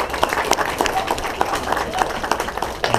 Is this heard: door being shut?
no